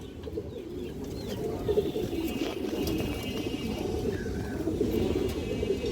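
Pigeons cooing in a loft of fancy breeds, soft low throaty coos repeating under a dense backdrop of other birds and faint background noise.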